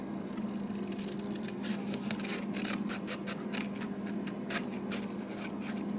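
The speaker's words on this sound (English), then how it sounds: "For some reason I'm just not getting there with these scissors today" Scissors snipping through paper or ribbon while a Valentine treat holder is made, a run of quick close crisp cuts at irregular intervals over a steady background hum, with no talking.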